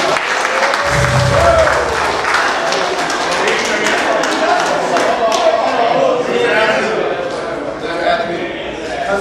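Crowd applause at a rap battle, a steady broadband clatter of clapping lasting the whole stretch, with voices and shouts mixed in and a brief low thump near the start.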